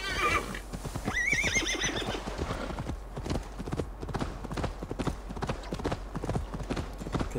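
A horse gallops in the Assassin's Creed Valhalla video game, with steady, rapid clip-clop hoofbeats throughout and a whinny near the start.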